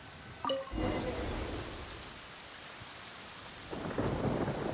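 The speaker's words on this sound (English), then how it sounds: "Looks like we're in for a stormy ride this time." A deep rumble of thunder rolls in over steady, hissing rainfall, with a second swell of rain and rumble near the end.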